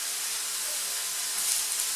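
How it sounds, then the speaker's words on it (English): Steak sizzles in hot olive oil in a frying pan, a steady bright crackling hiss that stays even and close throughout, swelling slightly toward the end, with no voices. "I've put it in and I can hear it sizzling, so that's definitely hot enough"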